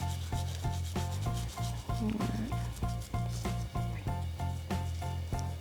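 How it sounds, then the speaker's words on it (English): A small brush scrubs diamond jewellery, working into the claws and settings in quick, even back-and-forth strokes, a soft rhythmic rasping close up, with no talking. "I'll just give it a quick overall brush again"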